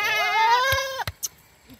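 A male Abluk goat at a goat farm lets out one clear, wavering, close bleat, followed by a few sharp clicks and rustles.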